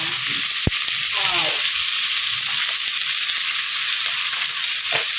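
Galunggong fish frying in oil, a loud continuous close-up hiss and crackle of sizzling with a sharp tap near the start and faint knocks and a brief voice underneath.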